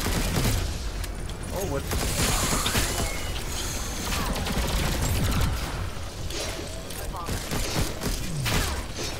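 Turret and weapon fire in the co-op shooter Alienation on hardcore mode, dense continuous bursts of gunfire and explosions with mechanical clanks, while a player speaks briefly over the din.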